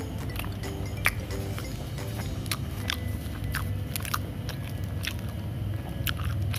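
Someone bites into and chews a black kebab with vegetable sauce of carrot and cucumber and meat, giving soft repeated crunches and wet mastication close to the mic over a steady low background hum.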